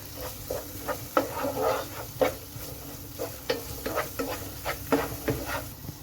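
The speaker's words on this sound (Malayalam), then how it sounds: "ഒരു കാൽ ടീസ്പൂണ് കുരുമുളക് പൊടിയും കൂടി ചേർത്ത് കൊടുത്ത് നമുക്കിനി ഇതൊന്ന് ഇളക്കി കൊടുക്കാം" A spoon stirs turmeric and black pepper powder into amla (gooseberry) rasam in a pot, with close, soft scraping strokes in an irregular rhythm over a faint simmering sizzle.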